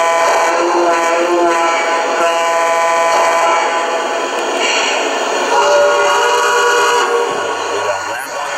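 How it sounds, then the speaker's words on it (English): A loud, sustained horn from a Lionel Legacy Southern Pacific AC-9 model steam locomotive blares with a bright, harmonic, higher-pitched tone, holding steady for several seconds before a lower note briefly enters near the end. "I believe there's a second horn in here too. And a little bit higher pitch there."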